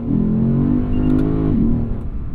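A 2020 Lexus RC F Track Edition accelerates hard through second gear on a cool day: a loud, close engine note climbs steadily, dips briefly at the shift into third, then pulls on strongly.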